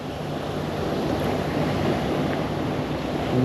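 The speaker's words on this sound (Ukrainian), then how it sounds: "Зверніть увагу, які хвилі йдуть." Steady rushing of waves on open water during a fishing trip, with wind noise across the microphone, continuous and close.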